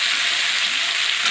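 Cut potatoes sizzle and hiss steadily in hot garlic-infused oil for an aloo dum curry, a dense, even frying noise with no voices.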